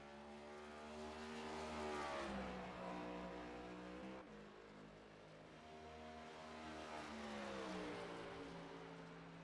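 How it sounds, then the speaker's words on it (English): A 32 Camaro race car in a racing video game drives past, its engine droning loud and steady with rising and falling revs, swelling twice as it accelerates and shifts. "he's coming out in his 32 Camaro"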